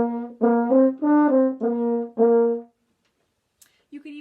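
A French horn plays four eighth notes slurred in pairs, rich harmonic tones in two connected groups, close and clear in an intermediate practice exercise, followed by silence and a brief faint sound at the end.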